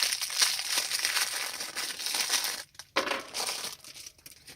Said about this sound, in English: Defeated by a plastic wrapper.